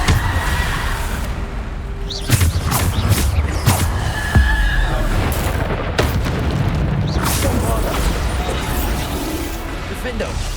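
Bombarda explosion spells cast in the Hogwarts Legacy video game, several loud booming blasts and crashes over dense game noise and effects, with a voice speaking between them.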